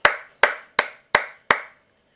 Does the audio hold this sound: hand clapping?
yes